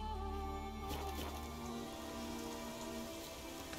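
Steady rain falls across a wet surface in The Witcher III: Wild Hunt Next-Gen, a dense continuous patter of drops with faint tonal game ambience underneath, with no talking.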